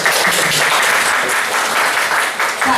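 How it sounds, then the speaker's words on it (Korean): Warm applause from a seminar audience in a lecture hall, a loud, dense burst of many hands clapping together, briefly and alone without talk. "다시 한번 뜨거운 박수"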